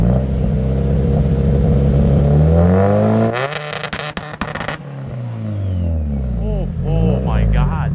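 A turbocharged Honda CR-V on two-step launch control revs hard with a loud, droning engine note. Midway comes a burst of rapid crackling pops, then the revs sweep down and climb again.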